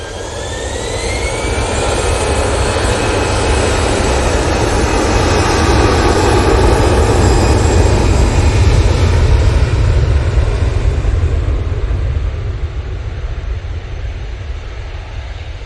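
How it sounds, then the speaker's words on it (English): An easyJet Airbus A320ceo jet departs Manchester Airport with a loud, close engine roar that swells over the first seconds, holds strong with a whining tone, then eases as it moves away. "We'll be going with this Easyjet. Using their 320 CEO."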